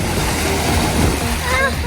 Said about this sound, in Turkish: Dalgalar vuruyoruz